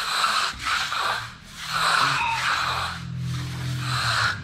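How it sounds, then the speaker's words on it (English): A trowel rubbing across a drying concrete countertop: rhythmic, close scraping strokes in long back-and-forth passes, about four or five rasping sweeps with brief gaps between them and no talking. "So I'm just going to start rubbing it."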